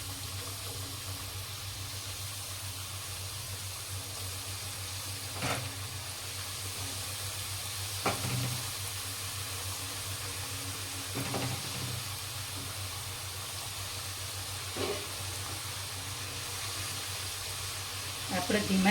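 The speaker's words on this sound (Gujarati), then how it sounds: "હવે પૂરી અંદર જેટલી સમાય એટલી મૂકી અને તરી લઈએ." Puris frying in hot oil over a low flame, a steady, faint sizzle and hiss running throughout with a few soft clicks and bumps now and then.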